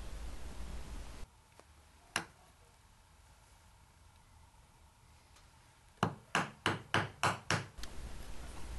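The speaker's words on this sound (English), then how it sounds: "I'll come in with my chisel and chop down right on my baseline." A chisel chops down into the dovetail waste of a wooden tea chest case with a single sharp mallet strike, then a quick series of about seven rhythmic knocks, close in a quiet workshop.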